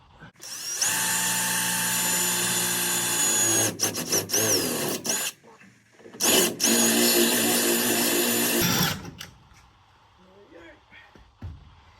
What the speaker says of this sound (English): I have another drill just with a countersink just to get the burr off